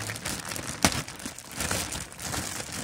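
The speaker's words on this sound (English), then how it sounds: "let's open this bag up. Why did you put tape on it?" A taped plastic bag being opened, with steady crinkling and rustling, one sharp tearing snap as the tape pulls free, then continued handling close up.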